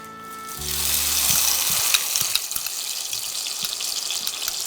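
Tomatoes for Bengali kul chutney hit a hot pan and break into a loud, steady sizzle and crackle after a brief low hum. The frying stays continuous and close, with no talk.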